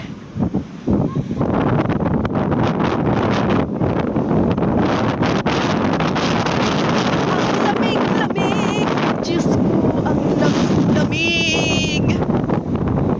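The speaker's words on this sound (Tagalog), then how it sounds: "Ang lakas ng hangin" Strong gusts buffet the microphone in a constant loud roar at the seaside on a cold, cloudy day with rough sea, with voices and the waves faintly audible beneath.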